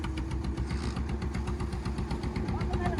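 A fishing boat engine runs steadily at sea off the Sundarbans while nets are cast, a loud, close, even low drone with a regular throbbing pulse and no break.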